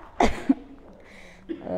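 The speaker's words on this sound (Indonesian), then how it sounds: "saya agak batuk-batuk ini sudah berapa hari" A man coughs during a spoken religious lecture, giving one sharp, close cough followed by a short throat catch, with quiet room tone and the start of a voice afterward.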